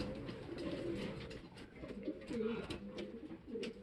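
Racing pigeons coo softly in repeated low, rolling calls, several overlapping phrases close by at a quiet level with faint background noise.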